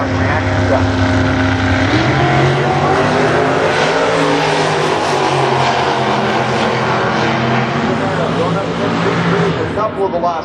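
A dragster roars down the drag strip, a loud, close engine with a pitch that swells and sweeps across the run, while a commentator talks over it.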